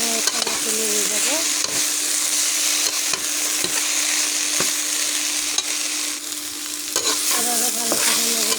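Jackfruit curry being stirred and sautéed in a wok, with steady close sizzling and repeated scraping strokes of the spoon against the pan throughout, and no talking.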